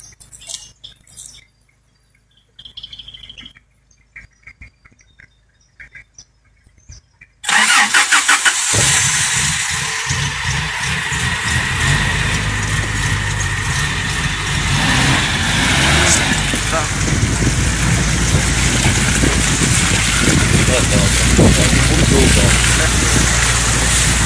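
A car stuck on a dirt track by water revs its engine hard and steadily, loud and close, after a quieter stretch of voices and small noises; people call out around it.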